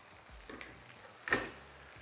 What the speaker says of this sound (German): Mischt das mit dem bisschen Öl, was ich in die Pfanne gekippt habe.